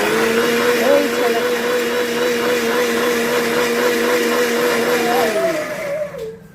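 An electric kitchen blender grinds spice paste for butter paneer with a loud, steady, high whirring whine. It runs continuously for several seconds, then winds down and cuts out near the end.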